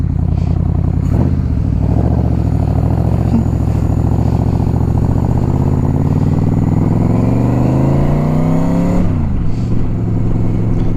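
A Yamaha Royal Star XVZ1300 motorcycle with a single-carburetor swap accelerates loudly and close, its engine note climbing steadily through a long pull before a quick shift drops the pitch and it builds again.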